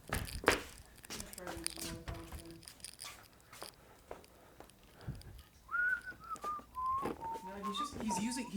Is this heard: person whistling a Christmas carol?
yes